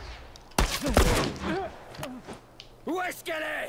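Pistol shots in The Last of Us, a few sharp sudden cracks spaced apart, heard alongside a voice talking over the gameplay.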